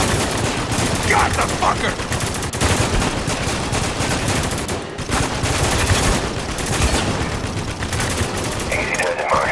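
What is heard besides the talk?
heavy gunfire in video game Spec Ops: The Line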